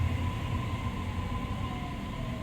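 A Sydney double-decker passenger train with upper and lower decks, heard as a steady loud rumble with low mechanical drone and a faint high whine, continuous and close throughout.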